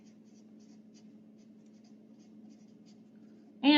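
A marker scratches softly across paper in short, quiet strokes while someone writes a letter, and a sudden loud voice cuts in at the very end.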